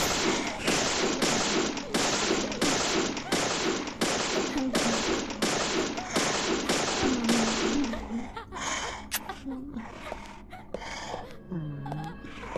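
Rapid gunshots fired at a box in the survival horror game Deadly Premonition, a dense run of about a dozen sharp, loud cracks over several seconds, then scattered quieter game sounds.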